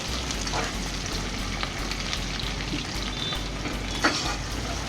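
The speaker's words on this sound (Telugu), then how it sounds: "ఆనియన్ అంతా కొద్దిగా బ్రౌన్ కలర్ వచ్చే వరకు ఫ్రై చేద్దాము." Onions fry in a pan for gongura pulao, giving off a steady, dense crackling sizzle at close range with occasional spatters and stirring clinks, and no voices.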